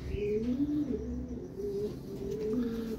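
A pigeon, apparently injured, coos in low, soft repeated calls, close by, with a faint background hum.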